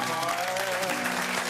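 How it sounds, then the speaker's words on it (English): A television studio audience applauds for Kenny at a Chris Isaak interview on The Project, a broad continuous wash of clapping with a faint tonal hum beneath it and no speech. "round of applause"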